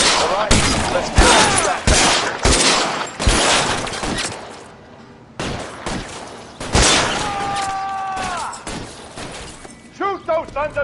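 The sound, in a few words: gunfire in shootout, L.A. Noire video game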